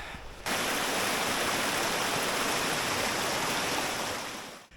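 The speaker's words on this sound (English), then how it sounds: "Now the river's really calmed down now." A river in a winter dale rushes steadily as a dense, close broadband wash of flowing water, continuous and even before fading slightly at the end.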